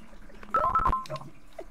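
A phone rings with brief electronic tones, a short burst of beeps near the middle, clear against a quiet background.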